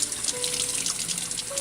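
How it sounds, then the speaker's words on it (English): Tap water runs steadily into a sink, rinsing a plate printed with tiki marker: a continuous close splashing rush with no voices. "I'm going to take it over to the sink and let the sink do most of the work."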